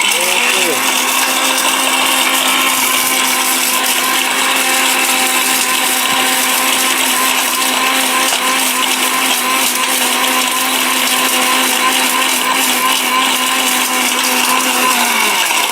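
A robot food processor grinds turmeric into powder, its motor whining loud and steady with a sustained tonal hum that holds throughout, slowing briefly at the start.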